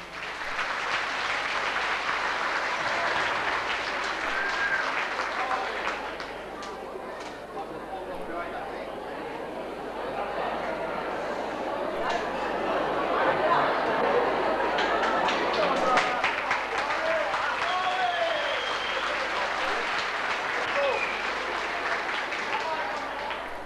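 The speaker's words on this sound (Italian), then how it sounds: "accogliamoli con un grosso applauso, sono i bambini della scuola materna" An audience at a Mother's Day celebration applauds nursery school children, long steady clapping that swells midway, with voices and crowd murmur mixed in.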